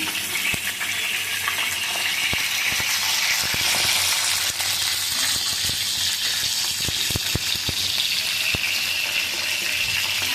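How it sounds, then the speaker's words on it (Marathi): Green-chilli-stuffed brinjals fry in a pan with a steady, loud sizzle. Sharp pops and crackles break through at irregular intervals, and no voices are heard. "फ्राय करून घ्यायची वांगी."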